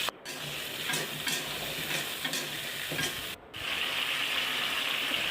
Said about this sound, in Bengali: দিয়ে দিব কয়েকটা কালো জিরে ফোড়ন এবং কেটে রাখা টমেটো।